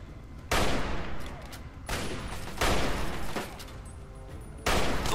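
Bursts of video-game gunfire from Fallout 3 erupt in several loud, dense volleys separated by brief lulls, close and harsh.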